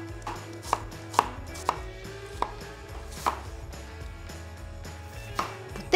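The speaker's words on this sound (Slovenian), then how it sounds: "Šalotko samo na grobo malo narežemo." A knife roughly chops shallot on a board, making a handful of crisp, separate taps spaced about half a second to a second apart over a quiet room background.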